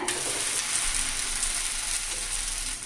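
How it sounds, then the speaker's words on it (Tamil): Adai batter frying on a pan with oil drizzled around it, giving a steady, close sizzle with a bright hiss that runs unbroken throughout, alone with no talk. "சுற்றி சும்மா ஒரு நாலஞ்சு சுட்டு எண்ணெய் விட்டுக்கலாங்க"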